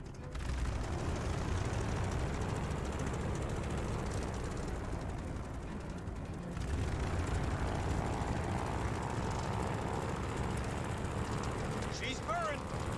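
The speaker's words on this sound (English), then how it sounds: "do an engine run-up. Make sure she doesn't blow out." A propeller aircraft engine run-up from the video game Call of Duty Vanguard, a loud, steady droning roar that holds for the whole stretch with a brief dip midway.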